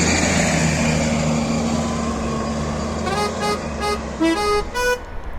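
A 1993 Mercedes-Benz O405 GN city bus rumbles with a low, steady engine drone, then a run of short horn-like toots sounds in the last couple of seconds.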